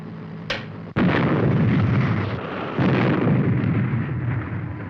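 A weapon fires on the Supercar TV show: a sharp crack, then a loud, sustained explosive roar that rumbles and swells again before slowly easing, heard alone.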